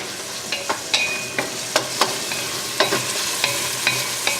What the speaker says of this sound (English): Wonderful pot is sizzling away. Our onions are sauteing in the extra virgin olive oil